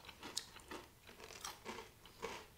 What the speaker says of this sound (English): Got a good crunch.